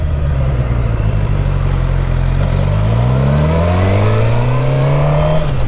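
A car pulls away and accelerates on a cold road, its engine rising steadily in pitch through the gears, loud and close with a constant rumble and no talking.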